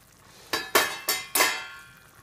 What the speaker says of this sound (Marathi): मीडियम आचेवर गॅस ठेवूया आणि कोलंबी शिजायची वाट पाहूया।